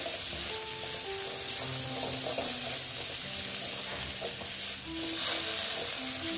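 Young jackfruit stir-fried with turmeric in a pan gives a steady, close sizzle with scraping and stirring clicks throughout, and no voices.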